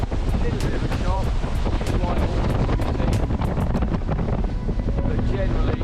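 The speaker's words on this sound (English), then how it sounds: "Wind's picked up a little bit, 15, 16 knots" Steady wind at sea around 15 to 16 knots buffets the microphone aboard a sailing boat, with a constant loud rush, flapping gusts and water noise throughout.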